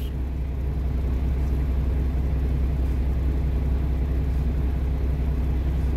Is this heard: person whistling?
no